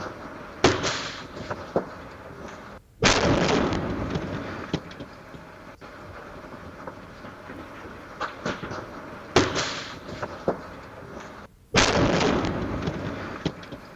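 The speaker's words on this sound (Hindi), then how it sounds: "इसमें आप साफ देख पाएंगे कि किस तरह से ये धमाका हुआ है" Blasts in Bhagalpur caught on CCTV sound as four sharp, heavy booms spaced a few seconds apart. Each jumps out loud over a low background hiss and then decays with crackling debris-like noise.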